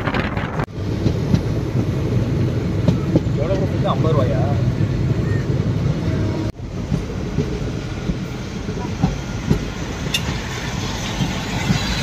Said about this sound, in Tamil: நம்ம ட்ரெயின் இப்போ அரைவாயிட்டுருக்க